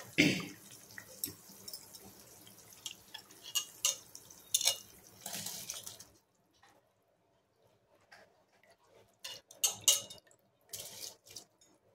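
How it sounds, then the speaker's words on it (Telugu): Rice tipped into a pot of boiling water for chicken biryani, with close splashing, dripping and a few metallic clinks of utensils against the pot, followed by quieter bubbling and occasional clatters. "ఇప్పుడు మనం రైస్ వేసుకుందాం."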